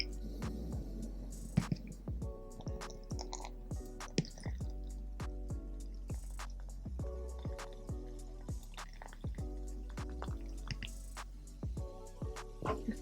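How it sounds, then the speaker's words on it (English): Aztec bentonite clay mixed with apple cider vinegar fizzes and pops quietly at close range. Irregular tiny bubble bursts and drip-like ticks repeat steadily without talk. "I see little bubbles popping"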